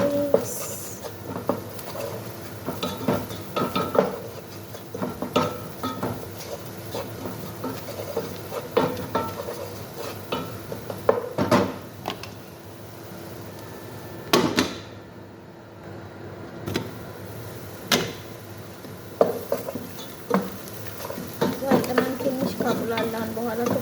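Spices are stirred into a pan of frying onions for fish biryani, a spoon scraping and clattering in uneven bursts over a constant sizzle, close and fairly loud throughout.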